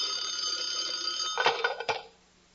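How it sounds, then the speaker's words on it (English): A telephone bell rings as a radio comedy sound effect, a continuous electric ringing that breaks into a few sharp clatters as the receiver is picked up, then cuts off. The whole effect is fairly faint. "Suddenly the phone rang."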